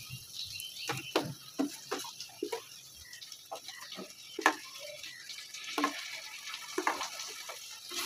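Tomato, onion and chili frying in a pan for mutton masala, with a soft sizzle and scattered stirring clicks and scrapes, fairly quiet and close.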